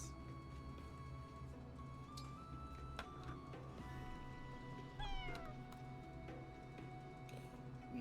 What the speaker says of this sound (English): We get a cat.